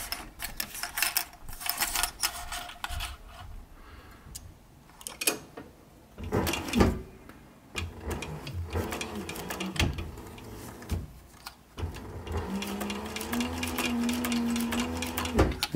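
A sewing machine stitches a cap brim in stop-and-start runs, with a steady whirring hum broken by clicks and handling noises, loud and close.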